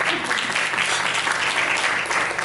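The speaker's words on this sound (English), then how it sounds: "let's give them a round of applause" Steady, loud crowd applause fills the room at a Women in ICT luncheon during an APNIC conference, continuous throughout without a break.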